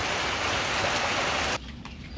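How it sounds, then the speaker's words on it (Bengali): Quiet, steady rain falls in a village, a dense even hiss of drops that cuts off abruptly partway through and leaves fainter dripping behind. "এখন এই যে নীরবে নিভৃতে বৃষ্টি হচ্ছে"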